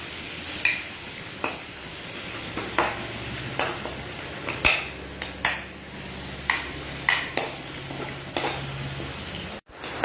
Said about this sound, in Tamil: ஒரு பொன்னிறமான பதம் பெறும் வரை நாங்கள் இதை இப்போ வதக்க வேணும்.